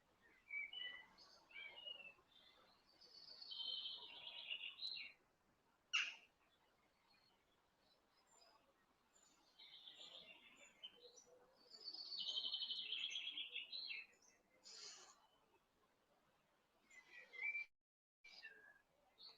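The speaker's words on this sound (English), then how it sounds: "Listen to them beautiful birds." Birds chirp and sing in woodland in bursts of high, bright calls and whistles, fairly quiet and distant, with no talking.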